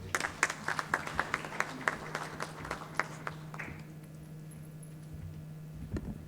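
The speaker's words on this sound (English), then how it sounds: "Once again, a round of applause for these dignitaries present here on the stage." Applause for dignitaries on stage at a stroke medical awards ceremony, beginning as sparse, distinct claps in a steady rhythm over a low hum and thinning to near silence after about four seconds.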